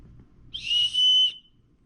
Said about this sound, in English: So the next piece is a tiny whistle.